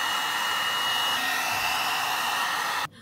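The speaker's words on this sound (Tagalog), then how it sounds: "Magbo-blower na tuyo na yung buhok." A hair dryer blows a steady, loud, close airy roar as it dries hair, running without a break before it cuts off abruptly at the end.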